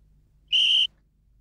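A single short, steady blast of a metal police whistle, shrill and clear, lasting about a third of a second against near silence.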